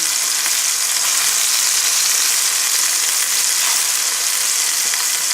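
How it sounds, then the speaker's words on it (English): Turkey medallions sauteing with vegetables in a hot pan give off a steady, loud, even sizzle that carries on unbroken, with no voices over it. "and start sauteing it"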